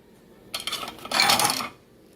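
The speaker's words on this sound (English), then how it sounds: "Put it in the oven" A dish of beef mac and cheese goes into a preheated oven with a clatter of metal and glass: a few light knocks, then a louder sustained rattle and scrape of the rack, close and without talk.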